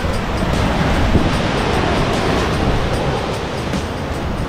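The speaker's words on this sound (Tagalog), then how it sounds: "napakalakas ng alon talaga" Strong ocean waves crash and churn at Punta Sur on Isla Mujeres, Mexico, a continuous loud roar of surf with no break.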